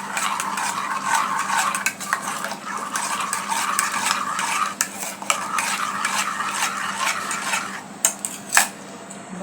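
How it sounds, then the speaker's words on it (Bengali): Milk tea being stirred in a pot, a steady close scraping and swishing of a spoon against the metal with faint bubbling underneath, continuous for several seconds with a few sharper clinks near the end. "চাটা নেড়ে নেব।"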